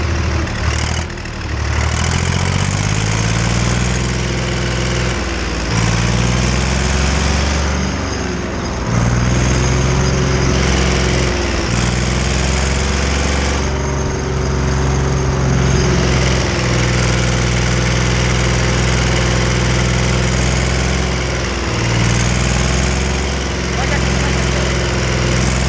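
Tractor engine running in a field while weeding winter crops, a loud steady low drone with harmonic hum that dips slightly at moments, close and continuous throughout.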